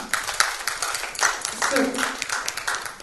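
An audience at a forum session on entrepreneurship claps, scattered clapping mixed with crowd noise and talking.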